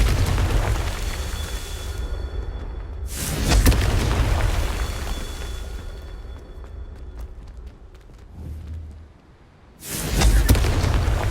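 Loud fiery spell blasts from the Confringo curse in Hogwarts Legacy, a booming burst near 3 s and another near 10 s, with rumbling game effects and ambience between.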